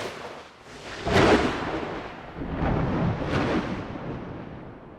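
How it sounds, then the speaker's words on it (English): Stretched, sped-up thunder effects roll through as two broad rumbling swells, the first peaking sharply and the second longer and steadier, each fading into a low grumble. "I made sure to stretch and speed up the audio so each thunder sound effect sounded different."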